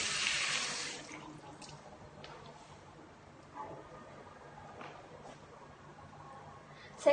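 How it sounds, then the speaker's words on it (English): Running water from a tap, with hands being wetted and soaped at a sink; a stronger gush of water at the start settles into a steady, quieter flow with a few faint splashes and a small clink at the end. "The first step is wet your hands and apply enough soap."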